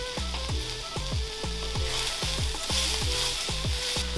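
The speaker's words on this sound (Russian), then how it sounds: "Для начала на растительном масле поджарим 3 сладких перца, нарезанных кубиками." Diced sweet peppers, onions and garlic fry in vegetable oil, giving a steady sizzle with repeated stirring knocks of a utensil against the pan, close and alone.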